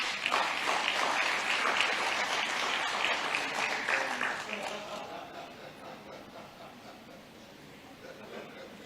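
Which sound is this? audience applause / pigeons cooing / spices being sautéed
audience applause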